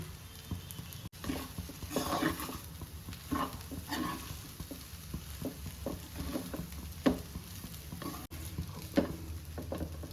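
Mango rice (chitranna) is stirred with grated coconut in a pan, making quiet, irregular scraping and shuffling strokes over a faint sizzle, with no voices.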